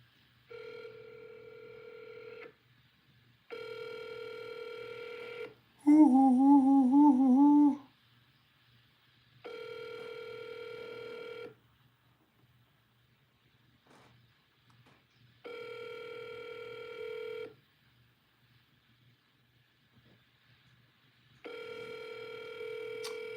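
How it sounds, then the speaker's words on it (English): On a conference call, a telephone ring tone repeats in long, evenly spaced bursts separated by silence, interrupted once by a short, louder warbling dial tone. The call goes unanswered, the sound stays clear and moderately loud, and no one speaks. "He won't pick up the phone."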